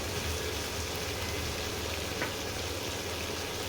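Soft continuous sizzle of chicken frying with spice masala in a pan, an even crackling hiss that stays steady throughout at low volume, with no talking.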